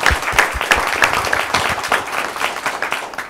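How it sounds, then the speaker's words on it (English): Audience applause at an executive talent management forum, a fairly loud and close mix of many hands with a few distinct nearby claps standing out in an uneven rhythm. "Round of applause for them, please."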